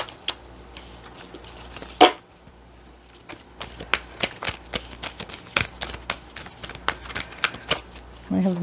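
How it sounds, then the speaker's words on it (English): A deck of tarot cards is shuffled in a run of rapid, crisp riffles and taps, with a louder flurry early on and a steady patter afterward, close and distinct. A voice is faintly present underneath. "I'm shuffling for the Cancer Collective's greatest good."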